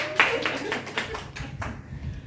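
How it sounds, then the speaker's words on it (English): Brief burst of audience clapping at a school assembly, a few sharp distinct claps that soften and thin out quickly within a couple of seconds. "Please give her a round of applause."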